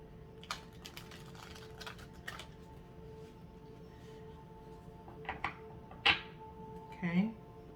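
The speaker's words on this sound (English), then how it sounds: "One more shuffle here before we cut." A deck of tarot cards being shuffled before the cut, heard as sparse, soft, crisp card taps and flutters over a faint steady hum, with a couple of slightly louder riffles near the end.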